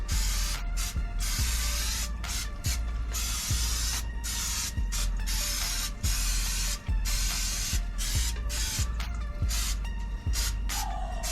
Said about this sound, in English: I'm gonna spray them with some spray butter